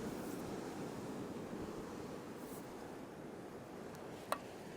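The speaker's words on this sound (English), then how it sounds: "So there's the surf's coming in from the left." Ocean surf rolling in on a windy Scottish coast, a faint continuous wash of breaking waves mixed with wind rumble, with a brief sharp tick near the end.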